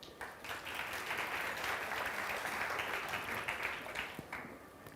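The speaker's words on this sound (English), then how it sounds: "Round of applause for the girl, please." Students in a hall clap for a girl who has volunteered at a job-market talk. The applause is brief but steady, thins out near the end and sounds moderately distant.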